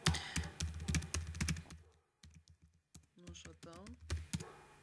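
Typing router configuration commands on a computer keyboard, bursts of close, quick key clicks separated by short pauses, with someone talking in between and over the typing.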